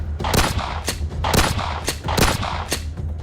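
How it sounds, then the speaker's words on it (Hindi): Gunfire during an army encounter with militants near the Line of Control in the Akhnoor sector, sharp shots in bursts of two, repeating several times in quick rhythm, loud and close with no voices. "दोनों तरफ से गोलियां चल रही हैं, गोलीबारी हो रही है।"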